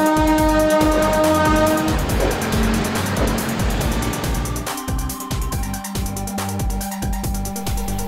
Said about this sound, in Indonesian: Lokomotif yang digunakan adalah lokomotif diesel yang klasik dengan bunyi yang sangat khas.